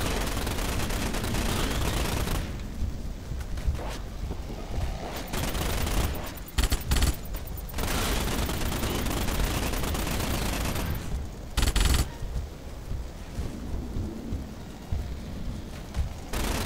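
Dense, sustained gunfire in the Starship Troopers video game crackles in rapid bursts, loud and continuous with a few brief pauses and sharper blasts scattered through.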